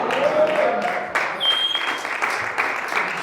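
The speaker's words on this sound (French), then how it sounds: "Quelqu'un dit Amen et on acclame Jésus" A church congregation at a Sunday service bursts into sustained applause and cheering, a dense, steady wash of clapping and voices filling the room for several seconds, with a few whistles rising above the crowd.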